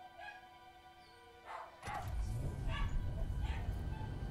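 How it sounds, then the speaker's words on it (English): Dogs bark and yip in the background, several sharp barks spaced apart over a low rumbling drone that swells and grows louder partway through. "And the dogs are going crazy in the background."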